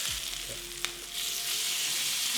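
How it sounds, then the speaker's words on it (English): Already-cooked reverse-seared steaks sizzling in a hot pan just after flipping, with a brief clack of the turn and then a loud, steady frying hiss that swells and holds, close up with no talk. "since these are already cooked, they just need to sear to get that nice crust"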